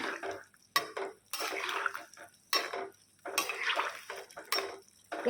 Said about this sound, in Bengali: কি সুন্দর ফুটতেছে দেখতেছেন